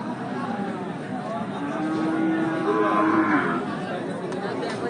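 Cattle low at a busy livestock market in Lalmonirhat, a drawn-out moo rising over a background of crowd chatter and voices.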